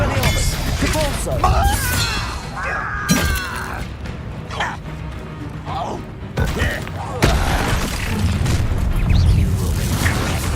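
Spell blasts and explosions in the Hogwarts Legacy video game, with shattering bursts, booms and whooshing magic effects over a dense, loud soundscape. A voice calls out spell names throughout.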